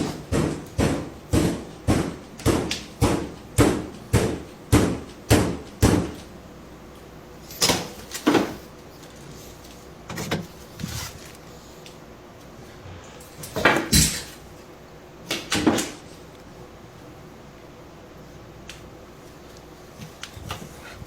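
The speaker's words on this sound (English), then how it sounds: "Loud knocking noises can be heard." Loud knocking on doors inside a house, a fast regular series of about fifteen heavy knocks, then scattered louder bangs and thuds after a pause, with a low room hum and no talking.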